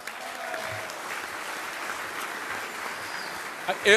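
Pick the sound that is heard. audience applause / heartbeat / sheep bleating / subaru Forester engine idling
audience applause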